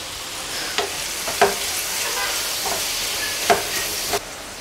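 Chutney ingredients fry in a pan with a continuous close hiss and sizzle, broken by a few sharp ticks and pops from the spatula at irregular moments, with no voices.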